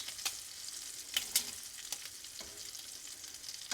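Shrimp fry and sizzle in a pan for shrimp scampi, faint steady crackle broken by sharp scattered pops and small spits, with no voices.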